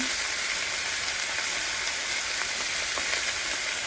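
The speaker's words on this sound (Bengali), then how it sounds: "নুন আর হলুদ দিয়ে দেবো" Eggplant and fish curry fries in a pan as salt and turmeric are stirred in, giving a loud, steady hiss of sizzling oil with a few faint scrapes, close and uninterrupted, with no talking.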